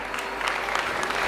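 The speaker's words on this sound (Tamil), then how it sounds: "ஒரு நல்ல கைத்தட்டல் கொடுங்க." A college hall audience at a film pre-release event in Tiruppur gives a short, steady round of applause, many hands clapping together.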